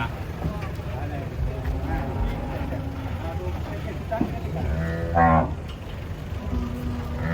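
Large Boyolali cattle low in drawn-out, harmonic moos amid a noisy livestock-unloading scene, with people talking over a constant rumble and a louder bellow near the end.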